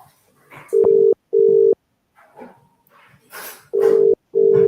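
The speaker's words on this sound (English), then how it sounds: "I'm literally gonna ring a load of random people and see if they answer." Telephone tone on a phone call, sounding as four steady, loud beeps in two pairs, separated by quiet gaps with faint background voices and rustling.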